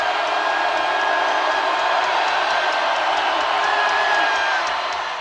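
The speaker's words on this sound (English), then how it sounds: "That gets the crowd into it." Arena crowd at a men's college basketball game against Georgia roars steadily after a free throw, a dense sustained wash of cheering and whoops that stays loud throughout with no clear individual voices.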